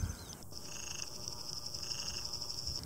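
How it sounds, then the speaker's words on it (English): A morning chorus of frogs croaking at a pond, a continuous trilling drone carrying from a little distance, with no voices. "The frogs are on the pond, as you can hear."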